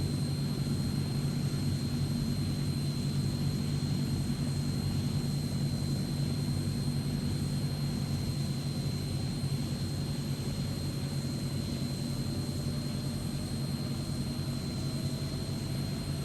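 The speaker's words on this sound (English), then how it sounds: "Alright, so engine 1 is starting now" A Transall C-160 turboprop engine spins up in Microsoft Flight Simulator, a steady droning engine hum with a faint rising whine and a thin high tone, continuous and even throughout.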